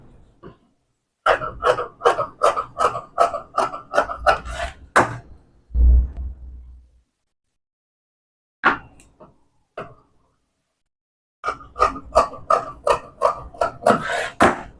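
Scissors snip through blouse fabric in fast bursts of crisp, close cuts, a long run of even snips, then a pause with a dull thud and a few isolated clicks, and another quick run of cutting.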